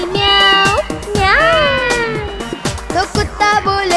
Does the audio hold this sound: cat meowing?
yes